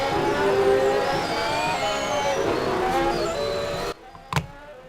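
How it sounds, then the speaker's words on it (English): Several V6 turbo race cars run on track at Jerez during preseason testing. Engine noise sounds steady and broad for about four seconds, then cuts off abruptly, leaving near silence with one brief sharp burst. "Obviously it is the V6 turbo noise, but they don't sound bad"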